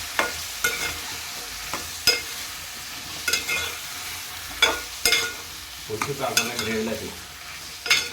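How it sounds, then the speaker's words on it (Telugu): Pumpkin curry being stirred in a pan, a spoon scraping and tapping in irregular strokes over a light sizzle, close and clear, with a cluster of quicker scrapes toward the end and no talking. "గుమ్మడికాయ కర్రీ సరే కలుపుకుందాం"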